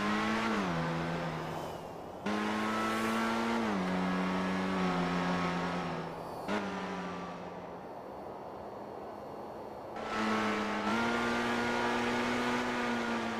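An electric car in GTA Online drives steadily, its whine rising and falling through repeated gear-like shifts, loud and continuous with no talk.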